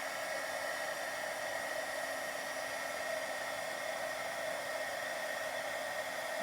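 A heat embossing tool blows hot air steadily over a card, a constant close-up whirring hiss that holds at even loudness throughout with no pauses.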